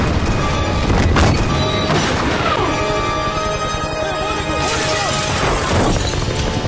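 A loud cannon crash and boom burst out, followed by sustained rumbling and clattering debris, with another heavy impact near the end as the shell hits a helicopter; the blasts sound close.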